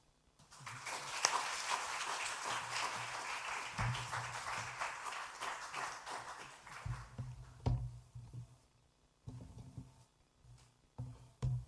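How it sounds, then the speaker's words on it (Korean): A church congregation at a new-year special dawn prayer service claps to welcome a missionary. The dense, steady applause fills the room for several seconds, then thins into scattered claps and fades near the end. "선교사님 나오실 때 환영을 박수로 환영해 주시기 바랍니다"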